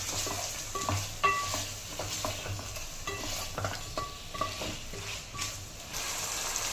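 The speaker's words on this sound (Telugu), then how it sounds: "ఇప్పుడు మనం మ్యారినేషన్ చేసిన చికెన్ వేసేస్తామండి. వేసేసి 8 నుంచి 10 నిమిషాలు బాగా ఫ్రై చేయాలి." Marinated chicken pieces fry in hot oil, giving a steady close sizzle broken by repeated spatula scrapes and clinks as they are stirred in the pan.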